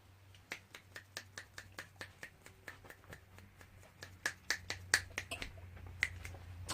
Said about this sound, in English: I did the cha-cha while drinking a scotch and snapping my fingers